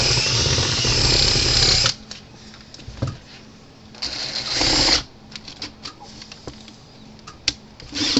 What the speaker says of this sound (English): Drill these bushings off.